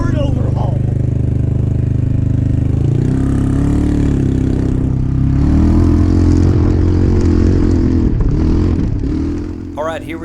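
A Fang Predator FX400 with a 311cc four-stroke engine, 20.4 horsepower and a CVT transmission, runs loud and close, a steady low drone that rises slightly partway through, with no talking over it.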